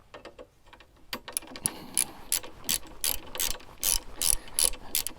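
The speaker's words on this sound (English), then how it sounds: "just grab the ratchet and the T40 Torx" A ratchet with a T40 Torx bit tightens bolts while fitting pannier racks on a Husqvarna 701 Enduro, giving rapid, close clicking bursts in repeated strokes after a few quieter handling sounds.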